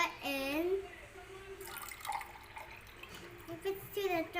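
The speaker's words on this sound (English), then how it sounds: "Now we need to put the water in." Water poured in while making lemonade at home, a light trickling and dripping heard between stretches of someone talking.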